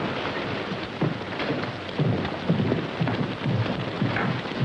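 A thunderstorm with a steady heavy rain wash and low rumbling thunder rolling through it, a dense constant roar with a few swells, and no voices.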